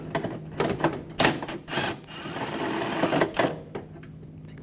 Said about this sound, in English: Using my 10mm socket.